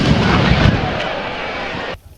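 A 37mm cannon loaded with a 10-gauge shotgun shell through an adapter fires a single loud, close boom that rumbles and decays for about two seconds before cutting off into quiet.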